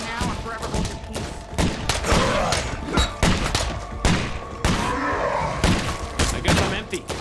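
Rapid bursts of video game gunfire crackle through a chaotic firefight, with repeated sharp shots at close range mixed with thuds and a voice talking over the action.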